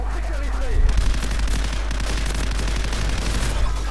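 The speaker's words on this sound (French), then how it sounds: "elle est vraiment efficace, hein, cette mitraillette" Sustained submachine gun fire in Call of Duty 4, a fast, loud stream of rattling shots over a deep rumble, with someone talking over the gunfire.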